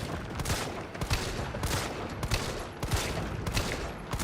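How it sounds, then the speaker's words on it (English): Rapid gunfire from the Resident Evil 3 video game, loud repeated bursts of shots in quick succession with brief gaps, sustained across the whole stretch with no talking. "Let's see what happens if I plug enough bullets into it."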